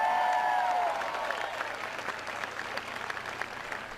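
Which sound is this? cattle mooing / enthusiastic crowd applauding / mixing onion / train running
enthusiastic crowd applauding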